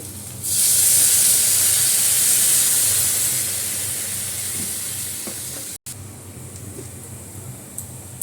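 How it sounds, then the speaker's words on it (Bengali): Water poured into a pot of hot vegetarian curry with garam masala, setting off a loud burst of sizzling and steam hiss that slowly fades to a softer bubbling simmer, with no talking. "একটু জলটা দিয়ে দিচ্ছি"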